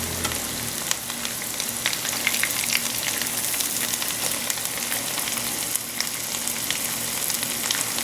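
Chickpea falafel browns in hot frying oil, giving a close, steady crackling sizzle scattered with sharp pops and spits throughout.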